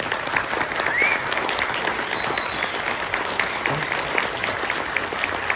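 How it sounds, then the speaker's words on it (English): A forum audience applauds school committee candidates, with sustained, even clapping from a room full of people lasting several seconds at moderate loudness. "Round of applause."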